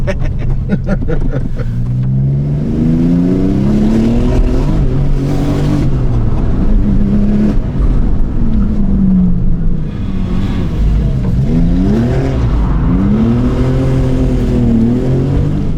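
A Porsche 996 GT2 engine revs up and down repeatedly, pitch climbing and falling in bursts as the car drifts, loud and close, with occasional voices underneath.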